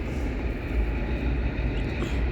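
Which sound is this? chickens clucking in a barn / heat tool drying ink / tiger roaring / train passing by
train passing by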